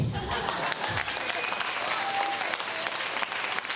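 A live audience at a talk about the flat Earth claps continuously and loudly for a few seconds. The dense applause fills the room, and faint voices sit underneath it.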